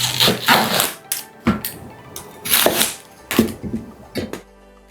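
A kitchen knife cuts through food on a board while scrambled eggs are prepared, heard as a run of sharp, loud chopping strikes in irregular bursts with short pauses between them, close to the listener and with no talking.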